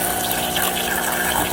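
A Nescafe Bluetooth coffee maker runs its pump, a steady buzzing hum with gurgling water close by, unbroken for the whole moment.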